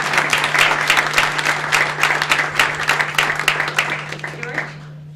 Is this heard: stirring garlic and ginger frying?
no